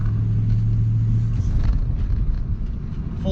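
A car with a manual gearbox shifting into fourth gear, its engine a steady close rumble with a low hum that fades partway through as the revs settle.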